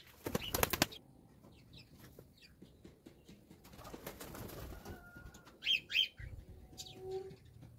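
Domestic pigeons in a home bird colony give brief wing flaps and a few soft coos and chirps, scattered and fairly faint with quiet gaps between them.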